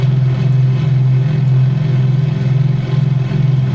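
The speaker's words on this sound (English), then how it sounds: "Ah, that's the sound of a twin engine." A twin-engine seaplane flying over a lake gives a steady, droning propeller hum with a throbbing, beating pulse from unsynchronized props, loud and continuous throughout.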